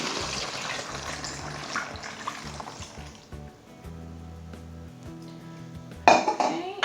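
Hot water poured into a container while mixing a homemade disinfectant cleaner with alcohol, a soft splashing trickle with clinks of kitchenware, ending in a louder clatter near the end.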